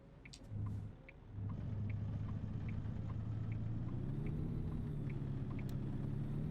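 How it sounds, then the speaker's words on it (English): Truck engine in American Truck Simulator drones steadily and loudly at low pitch while the wheels spin and the back end drifts, with a brief dip near the start and a slight rise in tone later. "A bit of wheel spin there as well, and a slight drift of the back end"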